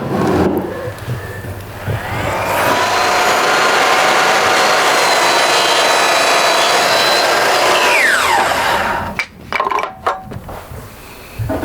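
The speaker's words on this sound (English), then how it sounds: "I'll do that on the chop saw" A chop saw whines up and cuts through wooden door trim in one long, loud, steady pass, then winds down with a few knocks and clatters as the board is handled.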